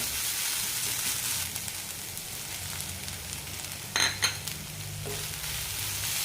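Onions and tomatoes sautéing in a pan for Bombay chutney, a constant close sizzle with a brief clatter of a spoon against the pan near the middle.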